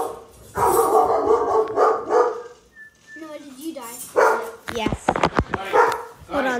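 A house dog barks in a string of quick, loud barks close by, mixed in with people talking over a game session.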